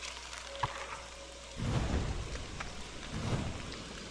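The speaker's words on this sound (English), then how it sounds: "It's raining too hard." Steady rain in the video game Don't Starve Together hisses and patters, swelling louder partway through with a dull rumble underneath, and no voices.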